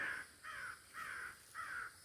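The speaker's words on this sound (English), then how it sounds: "And you can really hear that crow or raven" A crow or raven caws four times in an even rhythm in a nature preserve, each call harsh and drawn out, moderately distant over soft outdoor ambience.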